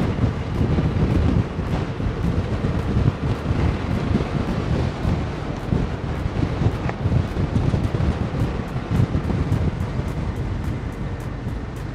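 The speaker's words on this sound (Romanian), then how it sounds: "Nu știu dacă se aude ceva de vântul ăsta." Strong wind roars steadily across the microphone while riding an electric scooter past a park in Madrid, a dense, continuous rumbling buffet with no talk.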